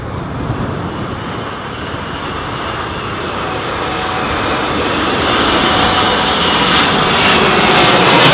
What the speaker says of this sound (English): Now listen to the engine spool up.